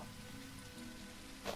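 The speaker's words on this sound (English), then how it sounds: "Is this filling up with rain now?" Steady rain patters on surfaces in the zombie survival game SurrounDead, a soft, even hiss with a brief louder splash near the end.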